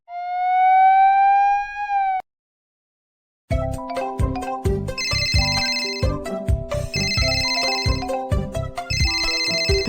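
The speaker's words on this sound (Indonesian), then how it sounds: "Telepon berdering." A telephone rings in a BabyBus cartoon. A long tone rises and cuts off, then after a brief silence a bright electronic ringtone melody loops repeatedly and loudly, with no voices.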